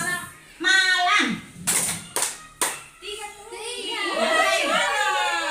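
A group of teachers plays a rhythmic clapping game: chanting voices lead into a few sharp, crisp hand claps, then more lively overlapping chatter.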